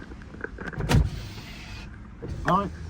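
Power windows on a Nissan 350Z whir up and down in two short motor runs, separated by a quieter pause and joined by faint interior rustling.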